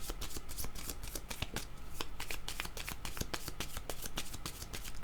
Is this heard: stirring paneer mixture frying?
no